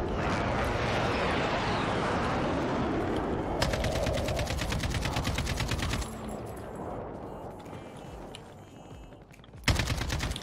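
Rapid automatic gunfire in Call of Duty Warzone gameplay, long sustained bursts of dense shots that pause and resume, loud and close, with a final sharp burst near the end and no talk over it.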